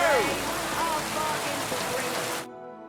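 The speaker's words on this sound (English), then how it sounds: "Oh, don't mind the rain." Rain falls steadily in Kingdom Come Deliverance 2, a close, even patter of drops on surfaces with faint tonal sounds mixed in, cutting off abruptly near the end.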